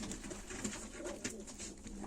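Male play pigeons coo softly in low, repeated murmurs, faint and close, with no voices over them.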